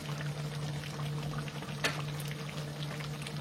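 Tomato paste goes into a simmering chicken curry, a low bubbling and liquid pour with one short clatter midway, close and quiet, with no one talking.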